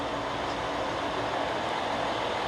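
A train bound for Sasebo station rolls along with a steady, broadband rumble of wheels and carriage noise throughout, fairly loud and even, with no speech.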